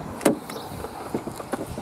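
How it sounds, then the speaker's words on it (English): Electric front windows on a five-door Peugeot hatchback, a brief muffled motor whir with small clunks inside the car, fairly close and without speech. "Got electric windows in the front."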